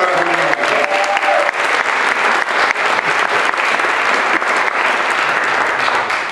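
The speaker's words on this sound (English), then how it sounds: "let's give her a round of applause" Sustained, loud audience applause fills an evening symposium hall honoring the Tougaloo Nine, dense clapping running steadily throughout with a brief voice at the very start.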